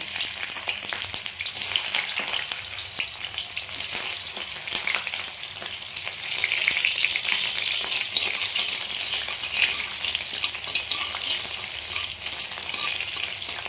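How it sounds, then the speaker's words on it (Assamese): Onions sizzle and crackle in an iron wok, a continuous close-up hiss with occasional stirring scrapes and no talking, ahead of cooking chicken with vegetables. "মই অলপমান পিঁয়াজ ভাজিলোঁ।"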